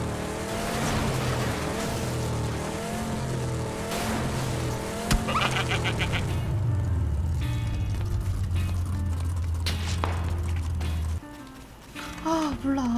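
A car driven in the PUBG battle royale game, engine droning steadily with wavering pitch and repeated tire squeals and skids, loud and close, while a voice talks over it.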